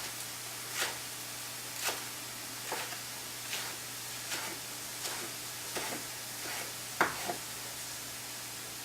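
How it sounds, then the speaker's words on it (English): Ramp bottoms sauté in a pan with a faint, steady sizzle, broken by soft, evenly spaced stirring scrapes or taps about once a second, with no voice over it. "So while our ramp bottoms are sauteing"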